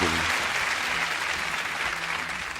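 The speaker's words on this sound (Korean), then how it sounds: "박수 아따 참 진짜" Dense applause from a group of people, a steady wash of clapping that carries on evenly for a few seconds.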